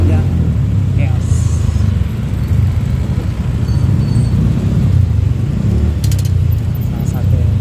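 Rush-hour traffic jam on a city road: a dense, steady rumble of engines and vehicles close by, with occasional faint clinks and brief higher-pitched tones over the constant low roar.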